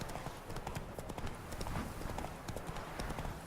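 Rapid clip-clop of horse hooves galloping across ground in the video game The Witcher 3, a steady drumming of hoofbeats running continuously and fairly close throughout.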